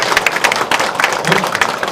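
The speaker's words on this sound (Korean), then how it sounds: "다시 한번 큰 박수 부탁드리겠습니다" A crowd at a Seoul mayoral candidates' policy presentation claps loudly and densely in quick, busy bursts, close and energetic, with faint voices mixed in.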